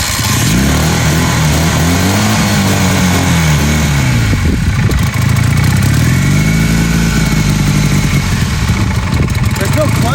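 A 1981 Honda CM400A motorcycle engine cranks, catches and revs up in two rising-and-falling surges, loud and close in a garage, settling into a rough idle, with a person speaking over it.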